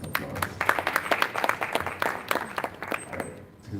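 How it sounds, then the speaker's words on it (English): An audience at a health forum and health week launch applauds a speaker, with close, uneven individual claps forming a moderate burst that tapers off after about three seconds. "I think we can give him a hand of applause."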